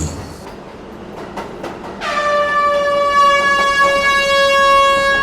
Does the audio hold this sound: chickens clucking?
no